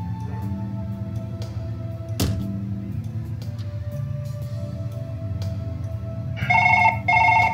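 A telephone rings in the Surgeon Simulator video game during a heart transplant in an ambulance: a loud, bright electronic double ring near the end, over a steady low game hum and scattered clicks.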